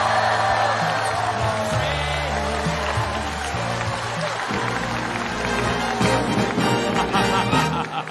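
A studio audience on a Chinese comedy stage show cheers and whoops for a new champion after a mock boxing bout, the loud crowd noise swelling over music and host speech.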